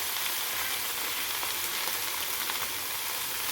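Oil sizzles steadily and loudly in a pan as dried taro leaves fry with browning garlic, a dense continuous crackle with no talk.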